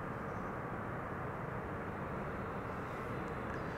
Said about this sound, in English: This is Delta Airlines Flight 164 arriving from Minneapolis, Minnesota.